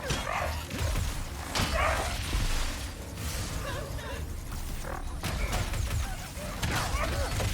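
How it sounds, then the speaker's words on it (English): Hostile dogs in Ratchet & Clank: Rift Apart bark and yip repeatedly during a fight, sharp, close barks mixed with combat effects and game noise. "Bad dogs. Stop trying to bite me."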